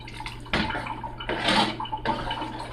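Water is poured into a pot of rice and kidney beans in a home kitchen, giving three splashing bursts of pouring, close and fairly loud.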